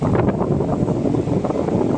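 A household air cooler blowing air, a steady loud whooshing rush of moving air close to the microphone with no talking.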